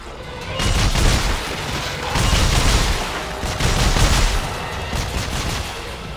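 Gunfire from a weapon in the video game Dead Space 3 comes in loud, repeated bursts of booming shots and rattling fire, rising and falling over several seconds.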